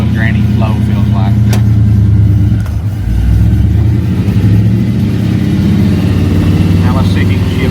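An '84 square body pickup truck drives in low gear, its mid-pitched engine droning steadily and loudly throughout, with people talking over it.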